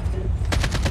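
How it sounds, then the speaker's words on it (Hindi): Rapid automatic gunfire in the Call of Duty Mobile battle royale game, a quick close burst of about four shots in the second half of the clip over a low background rumble. "मेरे उधर तो गोलियां चल रही हैं"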